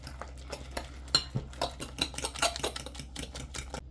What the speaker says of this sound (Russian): Сейчас мы тщательно перемешаем яйца, вмешаем их в кабачок.